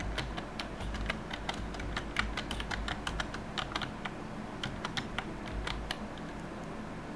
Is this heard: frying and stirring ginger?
no